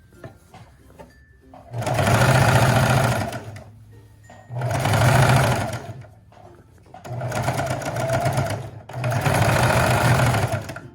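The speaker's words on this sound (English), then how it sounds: "Make sure to backstitch." A sewing machine stitches a mini dress in four loud, close bursts of rapid whirring, each a few seconds long, with short quiet pauses between runs.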